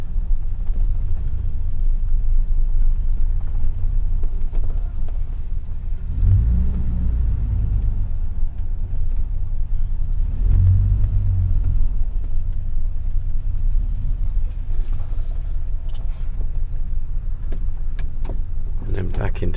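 A 1949 Dodge car engine pulls away on grass, giving a steady low rumble close by for the whole stretch, with someone talking over it at times.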